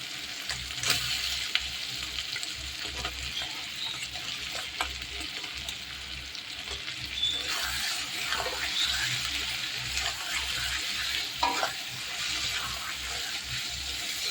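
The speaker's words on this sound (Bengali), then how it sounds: "চিংড়ি মাছগুলো দিয়েও কষিয়ে নেব ভালো করে।" Prawns fry and get stirred in a pan for a spicy Bengali prawn curry with a pinch of sugar, giving a soft, steady sizzle broken by occasional scraping stirs, fairly quiet and without speech.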